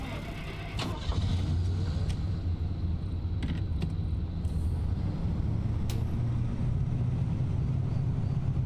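A car in the Pacific Drive video game drives with a steady low engine rumble that holds throughout, with a few brief clicks and knocks over it.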